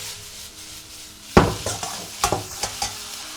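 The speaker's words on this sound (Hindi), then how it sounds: "साथ ही में ऐड कर देंगे 30 ग्राम चिकन बोनलेस और 10 ग्राम विंग्स। इनको भी हाई हीट में टॉस करेंगे।" Boneless chicken pieces and wings tossed on high heat in a hot pan, one loud clank followed by sizzling and several scraping stirs and knocks, close up without speech.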